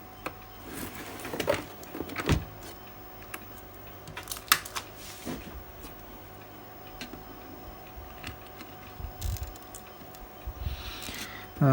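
A display wire connector is clipped onto a TV motherboard during a repair, making a few sharp, close plastic clicks and ticks spaced apart over a quiet room background.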